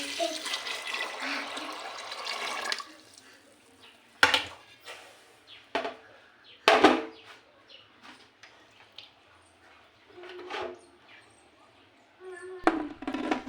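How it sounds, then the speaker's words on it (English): Water poured into a cooking pot of beans for a bean stew, a continuous rushing splash for a few seconds, followed by sparse clanks and knocks of the pot and utensils with quiet gaps between. "Add water in the beans."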